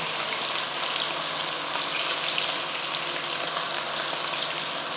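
Chicken pieces frying in a pan for crispy fried chicken, a steady dense sizzle and crackle of hot oil that holds at an even loudness throughout, close and unbroken.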